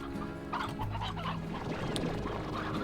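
Chickens in the video game Slime Rancher cluck and squawk steadily over a low background drone, several birds overlapping with no talking.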